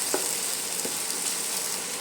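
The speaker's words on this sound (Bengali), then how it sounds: "একটা কেটে রাখা টমেটো টুকরো এর মধ্যে দিয়ে দিলাম। একটা কেটে রেখেছি কাঁচা লঙ্কা এর মধ্যে কেটে রেখে আমি দিয়ে দিলাম। দিয়ে এইভাবে ভালো করে নাড়াচাড়া করে নিচ্ছি।" Tomato pieces and green chilli fry in a pan, a dense, bright, steady sizzle with a couple of soft stirring knocks near the start, close up with no talking.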